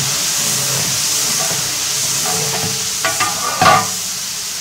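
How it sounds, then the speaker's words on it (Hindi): Water poured onto browned onions in a large commercial pot of degi chicken biryani, a loud continuous hiss and sizzle with bursts of bubbling and crackle near the end, no talking. "प्याज ब्राउन हो चुका है तो यहाँ पे शामिल करेंगे थोड़ा सा पानी।"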